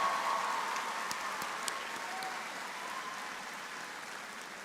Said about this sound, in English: Let's give him a big round of applause to Jeremiah and his family.